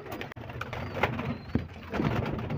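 Pigeons in a home loft coo softly and repeatedly at close range, their low throaty calls mixed with light rustling and small thumps.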